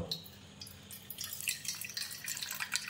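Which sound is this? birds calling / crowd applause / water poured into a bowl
water poured into a bowl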